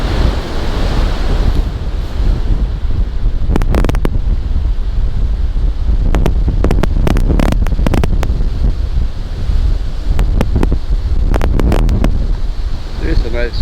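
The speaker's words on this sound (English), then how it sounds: "There's a nice wind gust that we're getting." Wind gusts buffet a Rode VideoMic Pro Plus on a GoPro 10 outdoors, a steady loud rumbling roar with bursts of crackling mic-handling noise, and surf or ocean wash underneath throughout.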